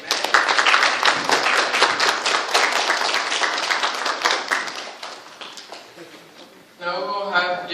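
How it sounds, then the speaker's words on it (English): Applause from a church congregation, many hands clapping steadily for about seven seconds, then fading before a brief burst of another sound near the end. "How about you give them a round of applause?"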